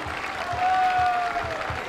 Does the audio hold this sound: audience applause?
yes